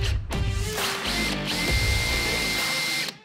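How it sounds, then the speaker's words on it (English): A power drill with a quarter-inch bit whirs steadily at close range, pitch shifting as it bores through fiberglass, then cuts off abruptly at the end. "Quarter drill bit."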